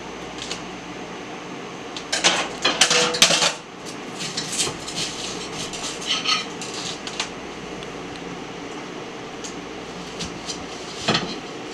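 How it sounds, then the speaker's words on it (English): An onion is cut in a home kitchen, giving a cluster of quick knife clatters and taps on a board, followed by sparser knocks over a low room hum. "you see how I just cut the onion"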